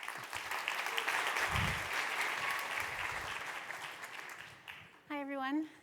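Conference audience applauding a speaker as she comes on stage, a steady wash of clapping from a full room that fades out, followed by a brief voice at the end.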